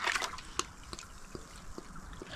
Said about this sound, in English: Just gently pour it out.